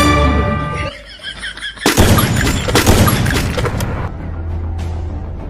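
Gunfire in a video game, with a sharp crack and then a dense burst of rapid shots that fades into a lingering rumble, loud and close, following a droning tone at the start.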